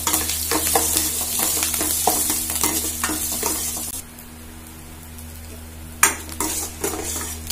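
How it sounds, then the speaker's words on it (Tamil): Chana dal and curry leaves crackle and sizzle in hot oil as a spoon scrapes and stirs the pan, with a brief lull and a sharp clank near the end; no talking. "கடலைப்பருப்பு, கருவேப்பிலை, நல்லா வறுத்துடுறோம்."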